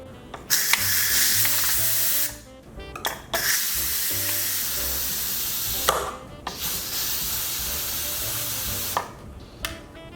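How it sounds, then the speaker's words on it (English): A loud, steady hiss of steam venting under pressure from an Instant Pot pressure cooker, broken by several short pauses and sharp bursts, with clicks as the flow cuts in and out. "I'm going to show you how I take care of the steam."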